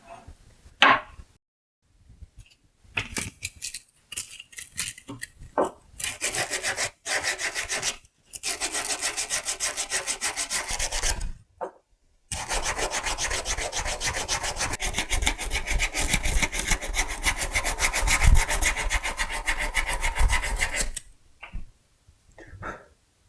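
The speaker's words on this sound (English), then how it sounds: "I'm ready now to sand the surface." An old screwdriver's wooden handle is sanded by hand in long rasping strokes, steady scratchy bursts separated by brief pauses, close and fairly loud.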